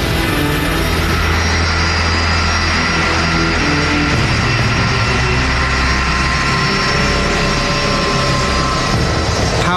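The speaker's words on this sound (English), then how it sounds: "Powered by its 3 engines, the plane hurtles down the runway." A three-engine DC-10 jet roars down the runway on takeoff thrust, a loud, dense, continuous engine rumble and whine filling the whole stretch without pause.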